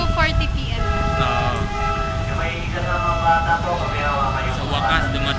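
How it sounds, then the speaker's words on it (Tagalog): A train pulls into a station, its rumble and tonal squeal of wheels and brakes steady and fairly loud, with people talking underneath throughout. "sa wakas, dumating na rin ang hinihintay naming tren"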